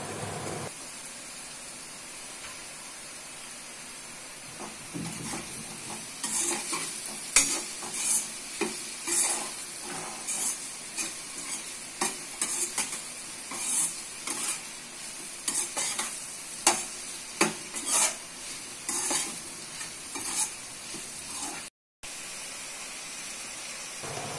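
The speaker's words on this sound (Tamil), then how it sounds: "இப்போ நான் வெட்டி வச்ச காளானை ஆட் பண்ணிக்கிறேன்." Chopped mushrooms added to sautéed onions in a pan for a Tamil mushroom pepper fry, a steady sizzle under repeated scraping stirs of a spoon, close and moderately loud, with no talk.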